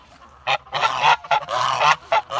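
Kholmogory geese honk by a stream in a run of loud, close, harsh calls, several overlapping bursts with short gaps between them.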